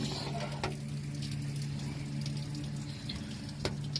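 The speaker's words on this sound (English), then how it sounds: "you kind of can see the water coming out of the bung there" Coolant water trickling out of the drain bung hole on a 1961 Series II Land Rover, a quiet continuous splashing stream over a low steady hum, broken by a couple of sharp ticks.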